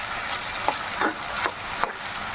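Tomato puree fries in a chicken keema masala, producing a steady close sizzle broken by several scraping stirs of a spoon against the pan.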